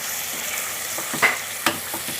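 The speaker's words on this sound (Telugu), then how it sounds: "తాలింపు పట్టేలా మంచిగా కలుపుకోవాలి." Chicken liver with turmeric, ginger-garlic paste and coriander is stirred in a hot pan, giving a soft, steady sizzle broken by two sharper scrapes of the spoon against the pan. No one speaks.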